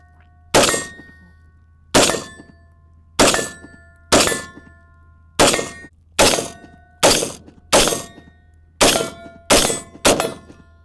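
Eleven rifle shots from a Radical Firearms 10.5 strike steel targets at a steady pace, each a loud, sharp crack followed by a bright metallic ring that fades before the next shot, with no talking.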